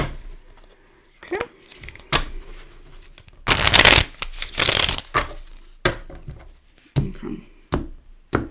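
Tarot cards are shuffled in several quick bursts, with a longer riffle in the middle and brief crisp snaps between pauses.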